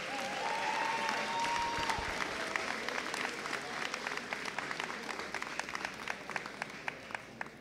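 Applause for graduating twelfth-grade students at a diploma ceremony, fairly distant, with a dense start that thins into scattered individual claps toward the end.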